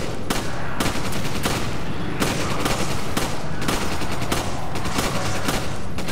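Sustained, loud gunfire in the video game Resident Evil 5, with rapid bursts and repeated shots hammering continuously throughout.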